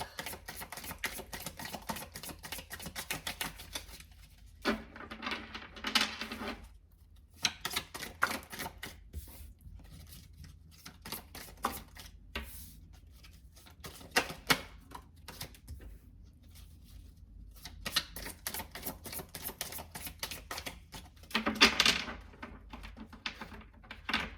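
Tarot cards being shuffled and handled at close range, a long run of quick riffling clicks with short pauses and a faint background hush.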